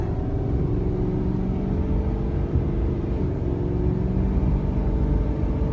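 A 2019 Ford F-450 Limited truck towing a heavy load accelerates uphill at half throttle on a rainy highway, giving a steady, loud engine rumble with road noise throughout and no talk.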